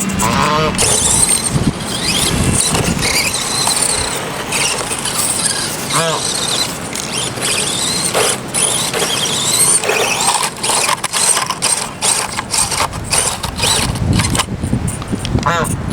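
An FMS FCX24 RC army truck, a small-scale Power Wagon crawler, drives around outdoors with a steady whining electric motor and squealing drivetrain over bumpy terrain, loud and close throughout, with scattered rattles and clicks.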